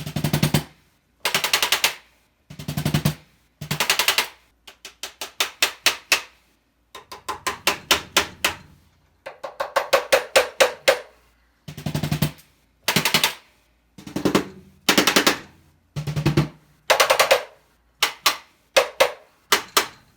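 Rapid rolls of sharp, rubbery hits on electronic drums fitted with rubber rims repeat in short bursts separated by pauses, each burst a quick rattling flurry of strikes.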